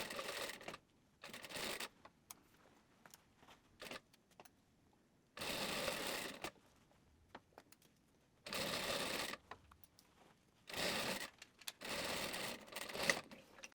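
Sewing machine running in short bursts while stitching the waist seam of a dress, each run a rapid mechanical whir lasting about a second, separated by quiet pauses and small clicks.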